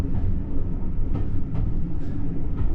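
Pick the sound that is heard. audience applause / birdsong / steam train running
steam train running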